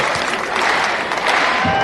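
Office crowd applauding an employee of the year award, a brief, dense burst of clapping at close range, loud and continuous.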